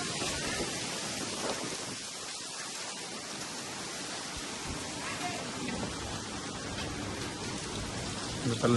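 Heavy rain lashes down in a sudden pre-monsoon storm with strong gusting wind, a dense continuous roar of downpour and wind at steady loudness, swelling slightly at the end.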